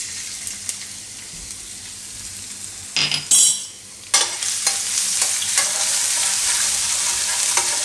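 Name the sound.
garlic frying and being stirred in hot oil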